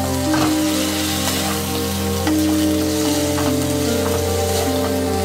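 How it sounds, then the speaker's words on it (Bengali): Ginger fries loudly in hot oil in a pan for an egg bora, a dense constant sizzle under a steady hum, while a spatula scrapes and stirs it again and again up close. "দেখো খুন্তি দিয়ে এইভাবে বারবার নাড়তে থাকতে হবে।"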